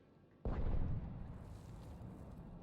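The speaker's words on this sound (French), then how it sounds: "Un chasseur kamikaze a détruit un canon." A single deep cannon explosion in Mass Effect 3 booms suddenly, then rumbles and rolls away into a lingering low roar.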